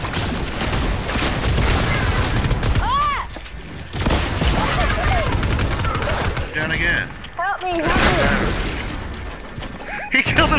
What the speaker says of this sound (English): Dang it, I'm getting shot at by oh, a furry.